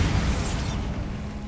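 A Bombarda spell blast in Hogwarts Legacy: a short, broad rumbling burst that fades into a low mechanical creaking tail.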